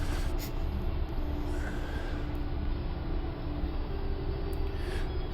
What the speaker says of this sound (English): Passenger train going by.